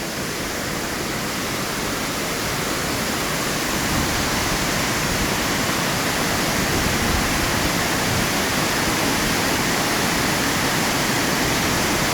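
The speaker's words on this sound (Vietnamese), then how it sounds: "cả cuộc đời mình chưa nhìn thấy cái cơn mưa nào nó nhiều như mạnh như thế này" Very heavy torrential rain pouring down, a dense, loud, continuous hiss and roar of water with no breaks or voices.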